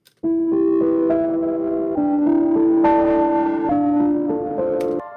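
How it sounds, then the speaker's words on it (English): Sustained piano chords given a distortion effect, with a gritty, crunchy tone, ringing steadily for several seconds with a brief gap between changes. "distorting the piano is a good thing to do also"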